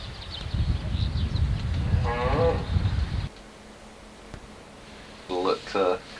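A cow lows near a recording studio, one long moo over a rumbling, noisy background, then after a quieter stretch two shorter moos close together.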